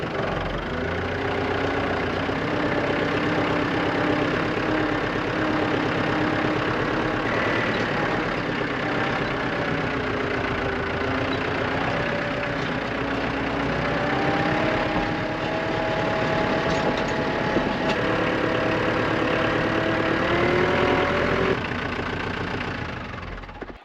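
A tractor engine idles steadily on a farm for the whole stretch, a constant rumbling drone with faint tonal whine, close and uninterrupted with no talk.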